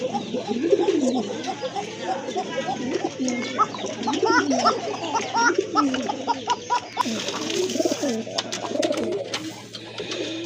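A black pigeon coos repeatedly in a pen of fancy breeding pigeons, its low rolling calls close and rhythmic, joined by other birds' coos and a background hum.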